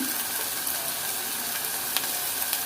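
Large shrimp sizzle in a pan with oil, a steady broadband hiss with a few soft crackles and a faint stirring scrape, close and continuous with no talking.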